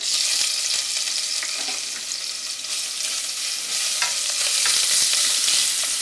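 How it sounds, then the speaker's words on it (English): Steady, crackling sizzle of oil heating in a pan for Jamaican curry tripe and beans, with occasional stirring scrapes and pops, close and continuous throughout. "I'll just wait until it starts sizzling before I add the other stuff."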